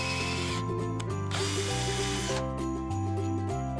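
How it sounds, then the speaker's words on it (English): A drill with a countersink pilot bit bores pilot holes into wood for a wooden step stool, its motor whining up close in several bursts that step up and down in pitch, with no talking. "we're marking and pre-drilling where the screws will go"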